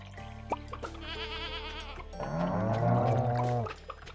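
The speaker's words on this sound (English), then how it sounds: "Goat." A goat bleats in Stardew Valley, a farming video game: a wavering call followed by a louder, longer quavering bleat, close and clear over faint background tones, with no talking.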